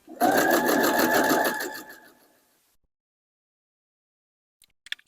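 A sewing machine stitches along the edge of a cloth napkin in a loud, steady, rapid whir for about two seconds, then winds down into silence, followed by a few faint taps.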